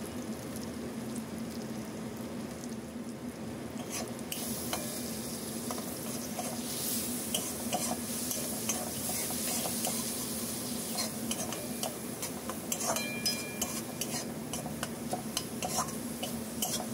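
A biryani masala mixture sautés in a pan with a steady sizzle, overlaid with scraping and clinking of a spoon stirring against the metal. The sound is moderately close and continuous, with no talk.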